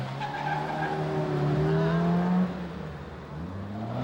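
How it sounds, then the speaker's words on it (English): A blue Ford Escort speeds away from a police stop with a loud tyre squeal that climbs in pitch for about two seconds, then gives way to a fading engine roar. "But as soon as the officers leave their car, he races off."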